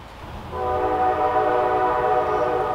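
A train horn sounds in a long, steady multi-tone blast over the rumble of the rail cars rolling past close by, starting loud after a brief lower rumble.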